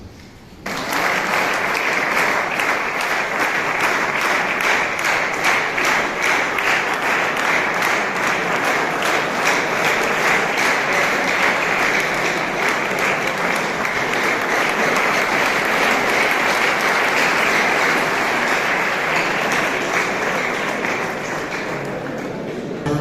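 Sustained, dense audience applause fills a convocation ceremony hall at the Pontifical Institute Alwaye, steady and loud for over twenty seconds before tapering slightly.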